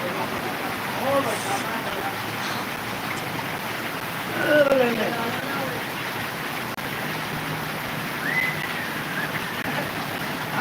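Steady rain falling during flooding in Bathinda, a continuous even hiss of drops with people talking over it in the foreground.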